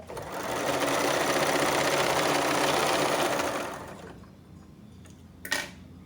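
Sewing machine stitching a half-inch seam on a designer blouse, a steady loud motor whir running continuously for about four seconds, then stopping, followed by a brief faint clatter.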